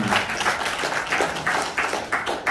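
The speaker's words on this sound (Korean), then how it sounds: "다시 한번 우리 윤경희 회장님께 감사의 박수 부탁드립니다" Short burst of audience applause at an indoor seminar, a scattered, moderately loud patter of clapping that pulses unevenly for a couple of seconds.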